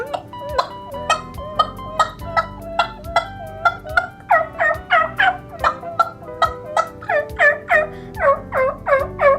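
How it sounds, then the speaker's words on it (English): Rapid, excited turkey hen calls, sharp cutting clucks mixed with rhythmic yelping, repeated steadily and close up with no talking. "you better give them some cutting and yelping"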